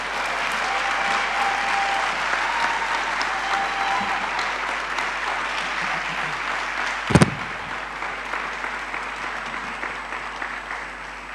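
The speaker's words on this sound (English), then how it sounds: "I would like to hear a very loud round of applause for the class of 2018" Broad, steady applause from a large graduation ceremony audience for the medical university's class of 2018, continuous clapping with a brief sharp thump partway through before it gradually thins.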